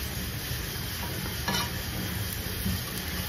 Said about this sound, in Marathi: आता मस्त लाल बुंद अशी भाजून घ्यायची छानपैकी.